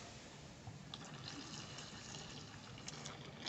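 Water is poured steadily into a container while homemade degreasing soap is being made, a continuous close liquid splash with small clinks and no talking.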